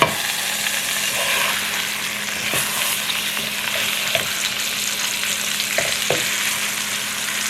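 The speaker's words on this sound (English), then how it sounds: "So while the steak cooks for another 8 minutes" A ribeye steak fries in a pan on a stove top over medium-low heat, giving a steady, close sizzle throughout, with a few soft clicks and shifts from the pan along the way.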